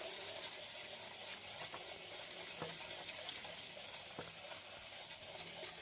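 Spoon stirring chocolate cupcake batter of sugar and water in a bowl, a steady run of soft scraping clicks and taps, close and fairly quiet with no talking.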